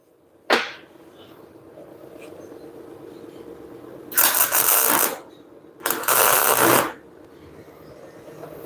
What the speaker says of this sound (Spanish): Vamos a soldar la primera, una tuerca en el primer perno.